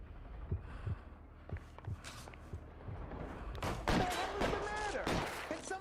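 Gunfire in the video game L.A. Noire, scattered sharp shots and bursts punctuating a tense scene, with game dialogue and voices over the later shots.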